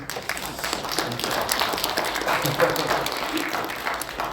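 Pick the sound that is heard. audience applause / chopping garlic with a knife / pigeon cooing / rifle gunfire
audience applause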